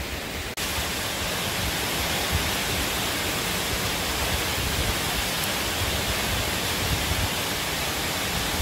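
Steady roaring rush of a waterfall beside the Mount Teneriffe loop trail near North Bend, Washington, loud and continuous like dense white noise, with no talking.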